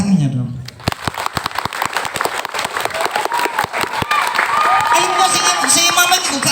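An audience at an elementary school Maulid Nabi celebration in Mojosari, Puger, bursts into a few seconds of clapping, followed by crowd noise and children's voices.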